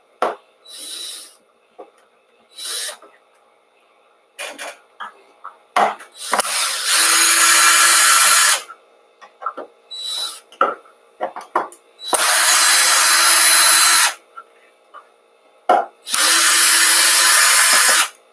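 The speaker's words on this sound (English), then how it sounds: "So I'm just going to use a screwdriver in my drill." A power drill fitted with a screwdriver bit drives screws in repeated bursts, some short and some lasting a couple of seconds, with clicks and handling noise between runs.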